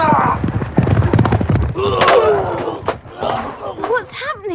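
A horse gallops through a dramatic radio-play scene with shouting voices, thudding hoofbeats and whinnies, backed by music during a riding accident in which a branch knocks the rider off.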